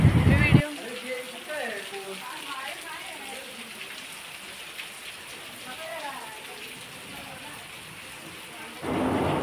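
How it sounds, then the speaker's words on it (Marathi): Heavy monsoon rain pours steadily in the Konkan countryside as a dense, continuous hiss, with birdsong and faint background voices drifting over it and louder bursts of noise at the start and end. "इकडे एवढा मुसळधार पाऊस पडतोय"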